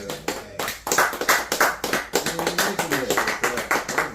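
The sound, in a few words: clapping sound effect from a clap machine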